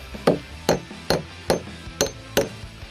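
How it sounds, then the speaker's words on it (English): A hammer strikes a galvanized carriage bolt into wooden picnic table legs: six sharp, evenly spaced whacks, close and loud, each with a short ringing decay. "when you put the carriage bolt in, you give it a few whacks, that'll sink into the wood"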